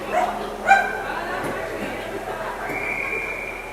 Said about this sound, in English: Loud fans, especially the dogs.